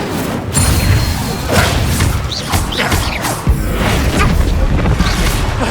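The Incendio fire spell cast in Hogwarts Legacy, heard as loud booming whooshes and thuds amid combat, several bursts spread across the stretch with no pauses.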